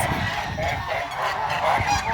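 Several Kholmogory geese honking together at close range, loud overlapping calls for a couple of seconds.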